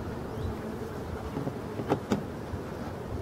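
Honeybees at a hive make a low, continuous hum, with a couple of brief, louder passes as single bees fly close by.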